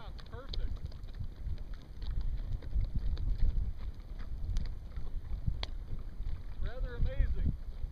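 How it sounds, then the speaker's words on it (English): Wind gusts across the microphone as a sailboat moves over Elephant Butte lake in November, producing a steady low buffeting roar with water sloshing and people chatting through it. "The wind's picked up more, hasn't it?"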